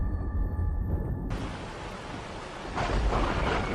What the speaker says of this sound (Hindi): बाहर बहुत जोरों की बारिश थी।